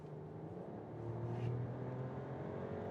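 A Mercedes-Benz six-cylinder car accelerates hard, its engine note building steadily and rising in pitch over a few seconds, heard from inside the cabin with no talk.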